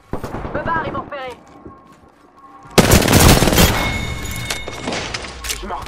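Shooter video game gunfire erupts halfway through as dense, loud sustained automatic fire, after a stretch of talk and quieter game sounds.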